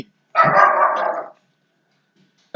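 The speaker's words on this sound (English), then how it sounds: "That'd be the neighbor's dogs." A neighbor's dog barks once in a single sustained, fairly loud bark lasting about a second, followed by quiet and the start of another bark at the very end, with no talking.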